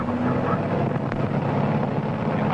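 An aircraft piston engine runs steadily at 2100 RPM during pre-flight run-up checks, a constant broadband roar with wind-like buffeting and no speech.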